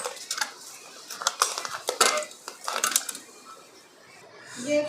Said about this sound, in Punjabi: ਥੋੜੇ ਜਿਹਾ ਆਪਾਂ ਇਹਦੇ ਵਿੱਚ ਬਰਫ਼ ਦੇ ਕਿਊਬ ਵੀ ਜਿਹੜੇ ਪਾ ਲੈਂਦੇ ਆ